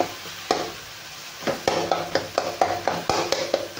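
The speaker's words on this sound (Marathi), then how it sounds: "वांग्याला छान उलटण्याने करून आपल्याला हलवून घ्यायचा" Eggplant is stirred and turned with a spatula through an onion-tomato masala in a pan, a series of about a dozen quick scraping clacks in uneven rhythm over a soft sizzle, close and clear with no speech.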